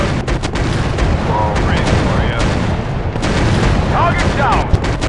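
Bombs and gunfire in the WW1 aerial combat game Warplanes WW1 Sky Aces: a loud, continuous barrage of rumbling explosions and rapid shots, dense and unbroken for several seconds.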